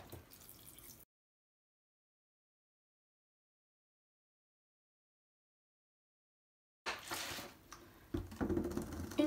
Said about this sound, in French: je vais venir recouvrir l'intégralité du mélange avec du vinaigre blanc